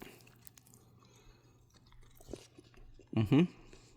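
Chewing on organic dried mango and pineapple fruit jerky, a short burst of close, moist, crunchy bites near the end after a mostly quiet stretch.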